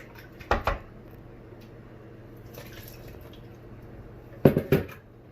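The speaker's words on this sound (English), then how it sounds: "I'm going to pour water to rinse it all out" Water poured over shredded cabbage in a sieve cloth for a cabbage swallow dish, heard as two brief splashy bursts of pouring and dripping, one near the start and one near the end, with quiet between.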